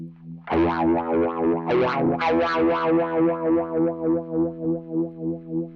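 A sustained distorted guitar chord through a Hosta Wah Filter V2 auto-wah pedal set to a sine waveform, a smooth, wavering sweep rising and falling in an even rhythm, loud and close, slowly fading.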